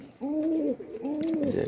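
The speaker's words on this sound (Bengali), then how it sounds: "যে এটা মাদি কবুতর" A female pigeon of good quality, wet-eyed, coos twice in close succession, each a soft rolling call, heard up close with no talk.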